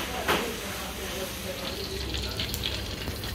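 Eggs, water and potatoes sizzling in hot oil in a restaurant kitchen, a steady close crackle running throughout at moderate level with no talk over it.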